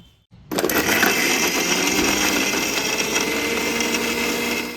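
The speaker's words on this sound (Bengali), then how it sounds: "সর্ষের তেল দু থেকে তিন চামচের মতো দিয়ে দেব এবারে ভালো করে ব্লেন্ড করে নেব" Electric blender whirring steadily as it purees onion paste with two to three spoons of mustard oil and no water, starting abruptly after a brief silence and running loud and continuous.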